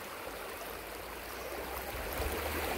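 River water in the Cauta river flows steadily and close by, a continuous broadband rush with a low rumble, uninterrupted and without voices.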